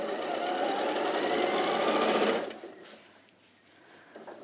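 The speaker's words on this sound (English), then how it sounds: "So into the corner and stop and needle down and pivot around" A sewing machine stitches steadily with a close, even rattling hum, then stops halfway through as the needle goes down at a corner, leaving quiet fabric handling.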